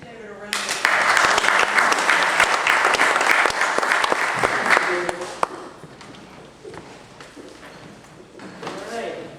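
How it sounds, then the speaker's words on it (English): Members at a residents' association meeting break into a round of applause that starts sharply, holds dense for several seconds, then thins into scattered claps and murmuring voices. "Let's give David a round of applause."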